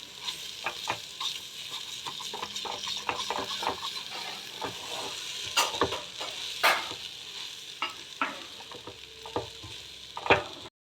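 Rice being fried in a pan for pulao, with steady close sizzling under repeated scraping stirs and sharp clicks of a utensil against the pan. No one speaks.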